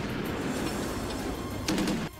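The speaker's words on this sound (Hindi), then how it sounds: "इस ड्रिल के दौरान रूसी टैंकों से इतनी गोलियां दागी गईं कि वो इलाका उनकी आवाज से थर्रा उठा।" Russian tanks fire during a military drill near Ivanovo, a dense rolling rumble of distant shots that swells into a sharper burst of blasts toward the end.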